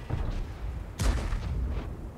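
A loud, sharp tank cannon blast in World of Tanks cuts through a rumbling low background, its boom trailing off over the next second.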